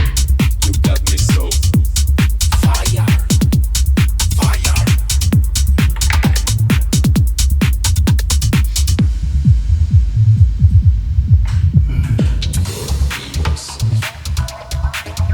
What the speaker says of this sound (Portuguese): eu vou filtrar totalmente pro low pass filter, deixar só a informação grave tocando e ao mesmo tempo eu vou aplicar o reverb